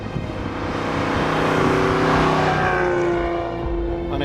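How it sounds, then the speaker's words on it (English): A 1957 Mercedes-Benz 300 SL Roadster being driven, its engine humming loudly and steadily up close with a gentle rise and fall in pitch as it cruises, no voices over it. "what you see here I'm driving is a 1957 Mercedes-Benz 300 SL Roadster"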